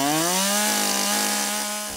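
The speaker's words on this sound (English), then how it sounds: "Vibration can be a real issue with a chainsaw." A chainsaw bites steadily into wood, its engine whining at a rising then steady pitch with a dense, loud buzz, close and continuous for the whole stretch.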